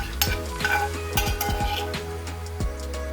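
Vegan al pastor filling toasting in a pan, stirred with a utensil that scrapes and clinks against the metal several times over a soft continuous sizzle, no talking.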